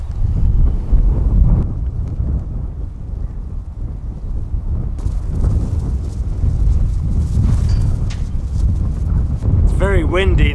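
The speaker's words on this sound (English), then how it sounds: "Very windy now." Strong wind gusts buffet a microphone outdoors beside a narrowboat during hull blacking work, a loud, continuous low roar throughout with brief bird-like chirps near the end.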